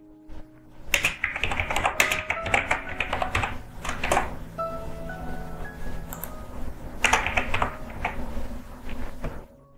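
Rapid typing on a computer keyboard, heard up close as dense bursts of clicking keystrokes separated by short pauses, with no one speaking.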